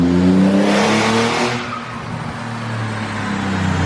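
A twin-turbo Nissan 370Z roars on a dyno, the engine note climbing under hard load, then easing back to a lower steady drone with a hissing wash, loud and close with no speech.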